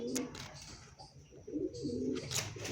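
A Maxi racer pigeon coos softly in a loft, low repeated murmuring calls coming in short bursts with brief pauses, close by, alongside other faint bird sounds.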